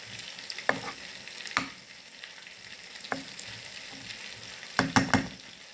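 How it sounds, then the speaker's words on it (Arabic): Tomato sauce with garlic and tomato paste frying together in a pan for Tunisian stuffed peppers: a soft, steady sizzle broken by a few sharp clinks and scrapes of a stirring utensil. "خليها تتقلى مع بعضها شوية حتى نملقها"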